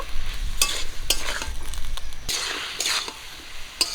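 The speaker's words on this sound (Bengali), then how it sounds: "একটুখানি জল মশলাটা দেওয়ার পর আর একটু ভেজে নেব" Hand-ground spice paste with a little water being fried in a pan for a village-style fish and greens dish: constant close sizzling broken by several sharp scrapes and stirring strokes.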